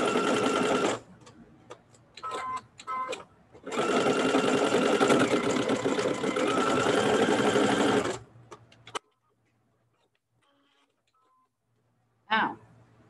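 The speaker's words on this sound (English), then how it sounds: "Let me just sew this a tiny bit more." Sewing machine stitching fabric for prairie points, a close steady mechanical whirr in several runs, one long stretch of several seconds, then stopping into near silence before a brief final burst.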